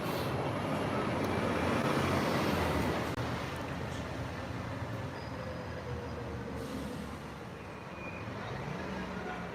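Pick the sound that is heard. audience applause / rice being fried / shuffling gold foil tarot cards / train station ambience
train station ambience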